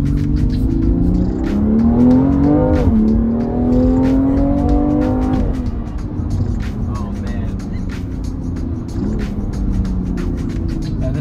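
A 405-horsepower BMW M2 Competition pulls hard down a straight, its exhaust rising in pitch through the gears with a shift around the midpoint, then settling into a steady, loud drone heard from inside the car.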